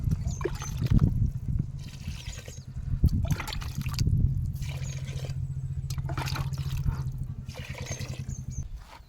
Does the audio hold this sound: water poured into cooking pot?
yes